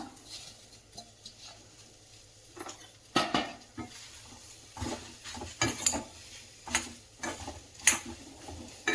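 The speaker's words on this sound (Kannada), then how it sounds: "ಅದಕ್ಕೆ ನಾನು ಬೆಂಡೆಕಾಯಿಯನ್ನು ಹಾಕಿಬಿಟ್ಟು ಫ್ರೈ ಮಾಡ್ಕೊಳ್ಳೋಣ" Sliced okra tossed and stirred in a hot pan, with clinks and scrapes of a utensil against the metal coming in bursts over a soft sizzle, close up and without speech.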